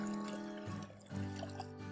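Water is poured into a 1.5 liter cooking vessel holding sugar for rasgulla syrup, a short close trickling fill with a ringing, resonant tone that briefly pauses midway.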